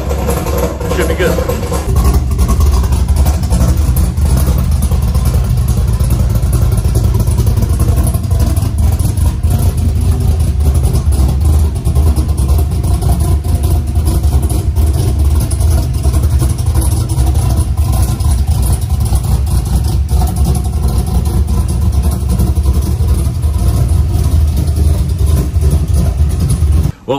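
A pickup truck with a dyno-tuned 6.0 LS V8 running on E85 gives a loud, steady engine roar that holds nearly constant for close to half a minute, with slight swells as it pulls.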